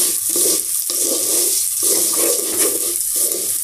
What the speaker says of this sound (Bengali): আর এদিকে যে কলার চালটা ভেজে নিচ্ছি।